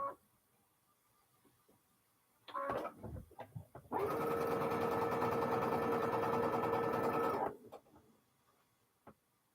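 After some handling clatter, a sewing machine runs one steady, close burst of about three and a half seconds while stitching a quilt block, then stops.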